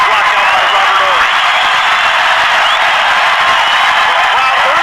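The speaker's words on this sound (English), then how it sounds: "The crowd urging the Rockets out." Dense basketball arena crowd roaring and cheering for the Houston Rockets during the 1995 NBA Finals, a steady loud wash of voices that holds unbroken throughout.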